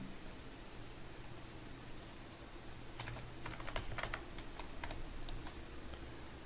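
Keystrokes on a computer keyboard as a command is typed into a DOS program, a steady run of light clicks over a constant low hum, denser toward the middle, with no speech.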